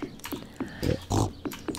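Pigs in the farming game Stardew Valley oinking in short grunts, several brief snorts spaced through the moment with two louder, longer bursts in the middle, close and alone without talk.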